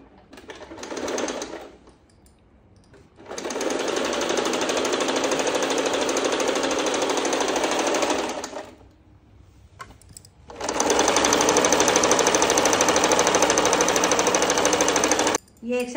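A sewing machine stitches a pajama in three loud, close bursts of rapid whirring, a short one and then two long runs, with brief pauses between them.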